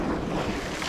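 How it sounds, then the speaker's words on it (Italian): Crosswind gusting across the microphone during shore jigging by the sea, a steady loud rush of wind noise mixed with surf, filling the whole second with no voices. "ogni tanto si butta vento laterale fastidiosissimo"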